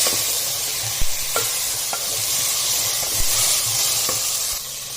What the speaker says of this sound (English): Now we will add cut tomatoes to it. Mix it, give a nice mix.